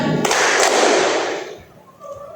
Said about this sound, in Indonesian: Saya minta tepuk 2 kali.